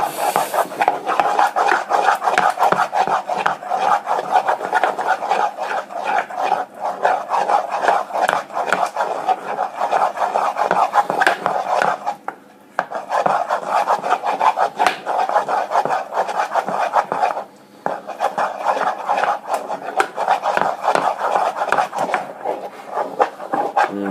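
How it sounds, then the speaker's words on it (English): A spoon stirs thick mashed potato in a pot with a continuous close scraping and rubbing sound in repeated strokes, broken by two brief pauses. "So you just keep stirring it, because obviously different people like their mash in different ways"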